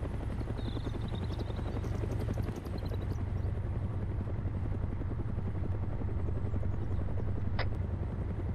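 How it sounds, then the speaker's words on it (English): Low-flying plane in the military game Arma 3, a loud steady droning engine roar that fills the whole stretch without letting up, with no talking over it. "there's a plane in the fucking sky"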